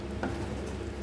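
Sorrel leaves (pulicha keerai) frying in a pan for thokku, with a brief, close, soft sizzle and stir.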